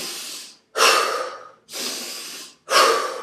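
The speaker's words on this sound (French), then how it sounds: "vous allez inspirer profondément par le nez et expirer par la bouche" Four deep breaths in alternating order, drawn in through the nose and let out through the mouth, each a loud, close, airy whoosh lasting under a second with short silent gaps between.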